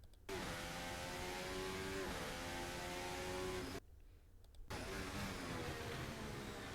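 F1 car in a racing video game on the Barcelona track accelerating out of a corner, a loud continuous high engine whine rising through the gears, with a short dip in throttle midway before climbing again.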